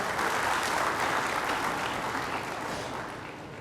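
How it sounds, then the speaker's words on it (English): An audience at a corporate event for a housing finance company gives a dense round of applause, many hands clapping together in a steady wash that gently fades toward the end. "let's again give a round of applause to Mr. Sandeepan."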